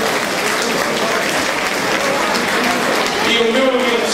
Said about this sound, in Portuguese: Uma salva de palmas para o Aurigo.